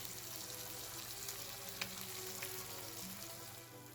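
Steady, quiet crackling and sizzling of bacon frying in a hot pan, with a few sharper pops.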